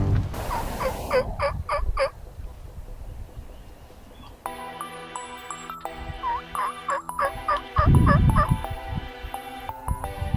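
Several wild turkeys gobble in bursts near a field, some near and some farther off, with rustling and handling noise in between and a steady electronic tone at times.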